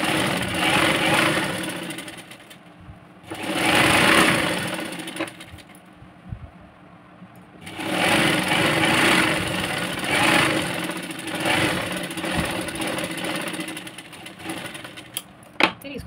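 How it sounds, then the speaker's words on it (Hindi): Sewing machine stitching a half-inch hem on a half katori blouse, running in steady whirring bursts with short pauses between, close and fairly loud. "मैं हाफ इंच पकड़ के उसको सिलाई करके देने वाली हूँ"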